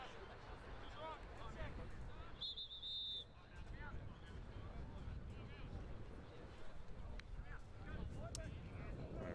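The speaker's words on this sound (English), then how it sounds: "Got a whistle." A referee's whistle sounds one short trilled blast at a junior gridiron football state match, heard amid steady crowd noise and commentary.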